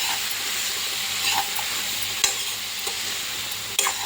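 Cucumber and tomato curry being stirred in a pan, a continuous close sizzle with a few sharp scrapes and knocks of the spoon against the pan.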